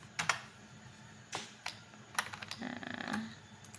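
Typing on a computer keyboard during work in Revit, a few sharp close keystrokes followed by a quick burst of rapid clattering keys, with no talk.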